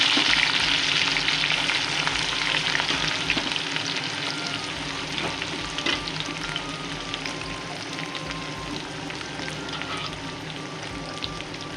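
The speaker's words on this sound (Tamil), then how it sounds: "எல்லாத்தையும் சேர்த்து நல்லா வதக்கி விடணும்" Green chilies, onions and cinnamon sizzle and fry in a pan while being stirred, a steady close crackle with occasional spoon scrapes and no talk.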